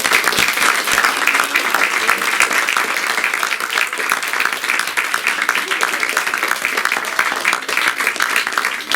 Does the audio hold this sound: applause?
yes